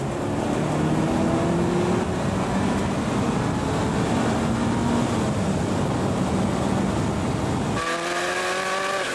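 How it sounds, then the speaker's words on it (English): A racing car accelerates hard down a straight, its loud, close engine note climbing steadily through the gears with a sharp shift near the end and no talking. "now we'll be accelerating down the straight"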